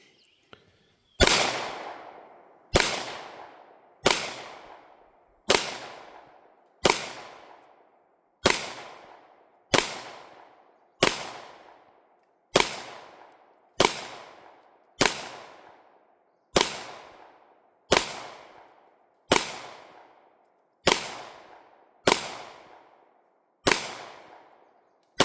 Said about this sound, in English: I'm going to shoot it in 38 Super. I'm going to shoot the plate on the right.